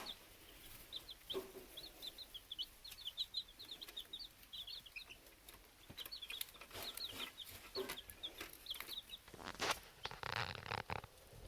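One-week-old baby chicks peep in quick, high, scattered chirps while pecking at one another, with soft rustling and scratching in their bedding close by and no talk.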